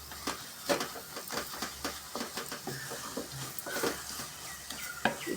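Chili and coriander powder are sautéed into an onion-tomato paste in a pan as chana masala cooks, a soft steady sizzle with repeated scraping strokes of a spoon, close and quiet.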